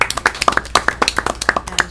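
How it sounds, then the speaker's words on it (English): A small group clapping at a school board meeting, a brief burst of distinct, close hand claps in quick irregular rhythm. "I think we all need to give a round of applause to Julie Perry and this budget."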